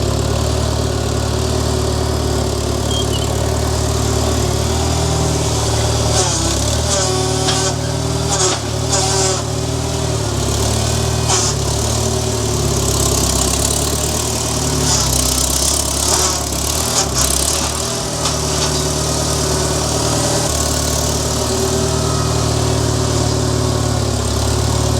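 A tractor engine idles steadily near a barn, a continuous low rumble that stays loud and even throughout with no talking.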